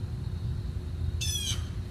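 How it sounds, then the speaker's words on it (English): Outdoors, a bird gives one short, harsh squawk late in the clip, standing out over a low, rumbling background. "birds are screaming"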